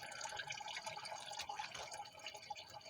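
Coolant drains from the radiator of a 2007 Dodge Dakota during a flush, making a steady trickling and dripping flow of liquid that runs continuously at moderate volume with no talking.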